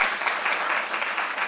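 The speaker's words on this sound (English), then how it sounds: "Please give her a round of applause for all of her work." Sustained audience applause at an indoor United Way gathering, a dense steady clatter of many hands clapping for the whole stretch without pause.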